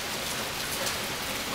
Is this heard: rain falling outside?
yes